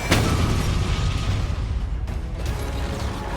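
A turret being destroyed in a video game, a sustained rumbling burst of explosion and crumbling debris with sharp pops, loud and close with no talk.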